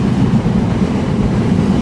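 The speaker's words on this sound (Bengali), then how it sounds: "ট্রেন তার গন্তব্য দিকে যাচ্ছে" A passenger train runs through the countryside near Tangail in Bangladesh with a loud, steady rumble and a low rhythmic clatter of wheels on the rails, heard from on board with no voices.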